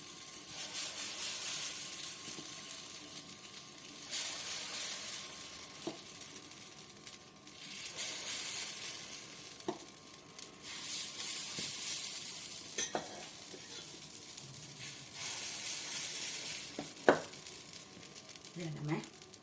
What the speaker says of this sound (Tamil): இப்போ அடுத்த மினி தோசை சுட்டுக்கலாம்.